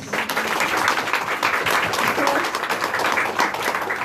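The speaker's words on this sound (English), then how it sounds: "give them a big round of applause" A forum audience applauds young team members at a young entrepreneurs' event, a dense, steady clatter of many clapping hands held at full level throughout, with a few voices faintly mixed in.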